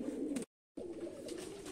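Giribaz racing pigeons cooing in a steady low murmur close by, broken by a short gap of silence before the soft cooing resumes.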